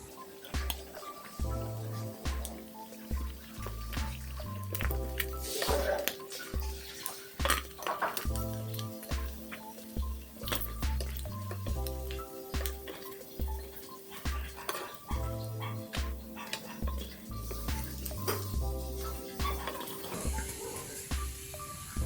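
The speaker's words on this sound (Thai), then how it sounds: "เดี๋ยวเรา ตักออกใส่จาน กันเลยครับ" Crispy fried catfish is scooped out of the pan onto a plate, giving repeated metallic clinks and scrapes of a utensil against cookware over steady background music.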